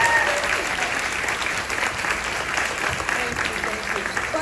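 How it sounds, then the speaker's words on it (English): An audience at a Star Trek: Voyager panel aboard a cruise claps steadily, a thick crowd-wide wash of applause that holds at an even level from start to finish. "You have to give a special round of applause to Joe"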